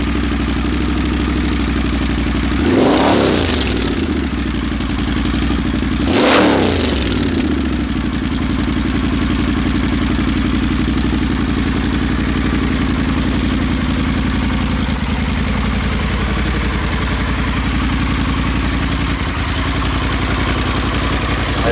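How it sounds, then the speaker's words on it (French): A motorcycle with a custom exhaust idling with a deep, throaty exhaust rumble, blipped into two sharp revs near the start before settling back to a steady loud idle. "Voyons voir ce que ça donne, ce fameux échappement."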